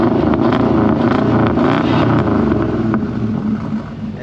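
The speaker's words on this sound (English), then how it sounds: "we got the Tahoe over here that has the Corsa exhaust" A Tahoe truck with a Corsa exhaust idles and revs with a deep, throaty exhaust rumble, loud and close, holding steady throughout.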